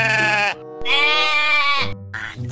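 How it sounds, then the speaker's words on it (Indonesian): A sheep bleats loudly and close by in three wavering cries separated by short gaps, with nothing else behind it. "domba."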